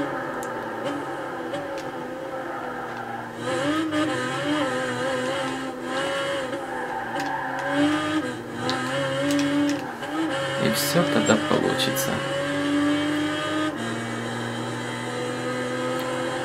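A race car engine in the video game Gran Turismo 5 drones and shifts pitch continuously through gear changes, with brief tire noise, under someone talking throughout.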